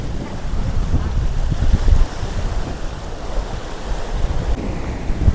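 Large river waves crash against an earthen embankment during a monsoon storm, a steady heavy roar of churning water with gusty wind buffeting the microphone and no clear talk.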